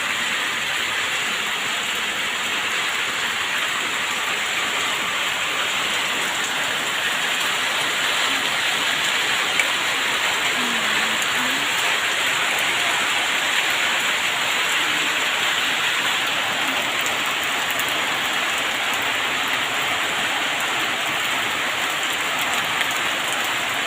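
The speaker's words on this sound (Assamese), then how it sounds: "এয়া চাওক কেনেকৈ জোৰছে বৰষুণ" Heavy rain in Tezpur pours down steadily, a dense, unbroken hiss that stays loud and constant with no voices or pauses.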